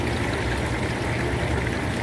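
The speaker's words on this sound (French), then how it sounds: "Ça bouille bien dans la panne à pli en avant." Maple sap boils vigorously in a stainless steel evaporator pan, giving a steady, dense bubbling and hissing roar that stays even and close throughout, with no voices.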